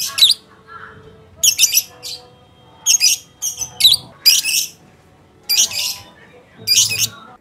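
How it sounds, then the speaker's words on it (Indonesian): A caged bird, recorded through a Hollyland Lark M2 microphone clipped magnetically to its cage, gives loud, close squawks and shrill calls in short bursts separated by brief quiet gaps. "sekalian aja kita tes suara burungnya ke situ"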